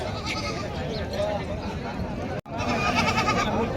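Goats bleat repeatedly at the Parbhani goat market, the calls wavering and overlapping with a steady background din, with a brief break near the end.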